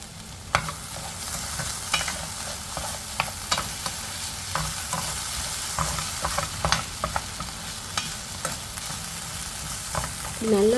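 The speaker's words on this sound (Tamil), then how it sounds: "நல்லா வதக்கி விட்டுக்கிறேன்னா" Chopped tomatoes and curry leaves sauté in a pan for poha upma, a continuous soft sizzle broken by repeated scraping stirs and clinks of a spoon, close and alone without talk.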